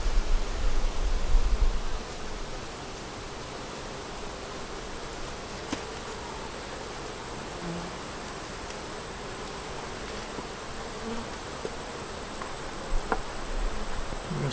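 Honey bees hum around a hive box with a feeder in it, a constant dense buzz close to the listener that runs throughout, with a few low rumbles and bumps and no talking.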